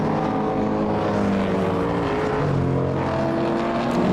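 Historic racing cars, among them a TVR and a white and black Ford Mustang, roar around the track in a continuous loud engine drone with shifting pitch, close and steady throughout.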